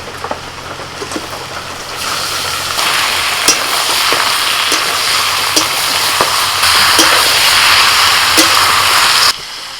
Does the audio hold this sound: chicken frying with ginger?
yes